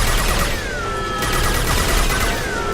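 Continuous, dense gunfire in Mass Effect 2 as a player shoots at tubes, loud and unbroken for the whole stretch with a faint tonal whine running through it.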